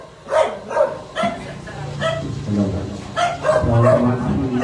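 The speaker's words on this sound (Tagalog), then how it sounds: "Ang ingay ng aso!" A dog barks repeatedly at a home birthday gathering, sharp, fairly close yelps and barks recurring every half second or so, with people talking and murmuring underneath throughout.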